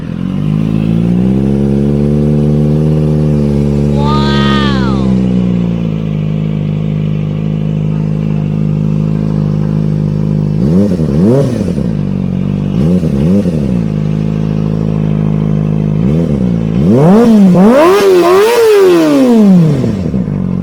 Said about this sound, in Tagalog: Ito na yung Villain exhaust R11.